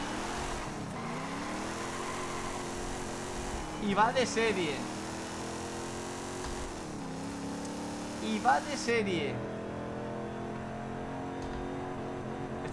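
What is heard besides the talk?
Dodge Dart Hemi old V8 engine revving, Forza Horizon 5 video game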